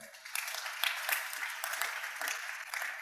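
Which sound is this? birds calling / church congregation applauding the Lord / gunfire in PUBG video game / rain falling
church congregation applauding the Lord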